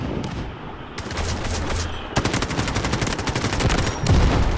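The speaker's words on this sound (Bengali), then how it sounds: "এত দূর থেকে গুলি করতেছে দেখেন" Rapid automatic gunfire from the mobile shooter game Delta Force Mobile, with bursts of rattling shots that grow louder and denser after a brief lull and carry on to the end.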